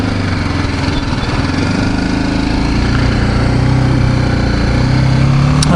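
A BMW G310GS single-cylinder motorcycle engine droning loudly and steadily while riding on a freeway, with rising pitch from revs and wind rush, close up and without talking.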